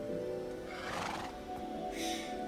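A horse neighs in the Minecraft video game, a whinny rising over a continuous background of game music and ambience, with no talking.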